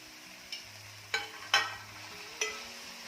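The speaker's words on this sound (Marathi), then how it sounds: "छान मिक्स करून घेऊया" Fenugreek leaves, coarsely chopped, stirred into dal in a pan for a Marathi methi bhaji, giving a few soft scraping and sizzling strokes spaced about a second apart, close and fairly quiet, with no talking.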